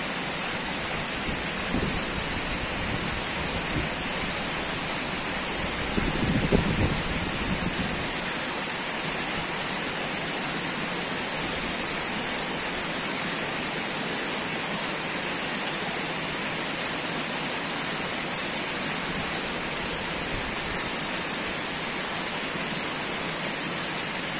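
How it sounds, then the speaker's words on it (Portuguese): Water injected in countercurrent to backwash a filter at a municipal water treatment plant, a loud, constant broadband rush like heavy rain or a waterfall with a brief burst of bubbling early on, no talk. "Agora vai ser injetado água em contracorrente, enfim, algumas borbulhas."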